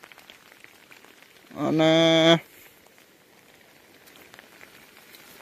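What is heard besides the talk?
rain falling in Gir forest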